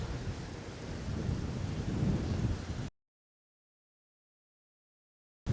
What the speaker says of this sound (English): Winds are gusting up to 20 miles an hour at the moment.